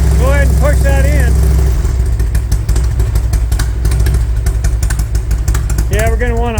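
A 2001 Harley-Davidson Electra Glide V-twin idles steadily up close in a repair shop, a low loping rumble throughout, with people talking over it at the start and end.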